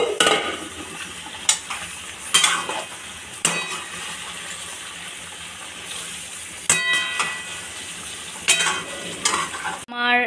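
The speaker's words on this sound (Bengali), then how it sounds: "দিয়ে এই যে সবজিগুলো আমি ভেজে রেখেছি একে একে এটার মধ্যে অ্যাড করে দেবো" Fried vegetables are stirred into a sizzling paneer curry, a steady fry hiss broken by repeated scrapes and clanks of a spoon against the pan, close and without talk.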